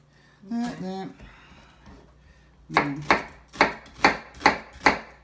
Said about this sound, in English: This is the way I learned how to properly cut an onion.